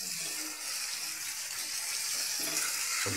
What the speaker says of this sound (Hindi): थोड़ा सा पानी डालेंगे ताकि मसाला अच्छे से भुना गया सके